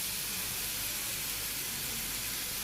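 Cumin, turmeric and dried chili powder fry with onion-garlic paste in a pan in a Bangladeshi village kitchen, giving a soft, steady sizzling hiss that runs unbroken and fairly faint, with no voices.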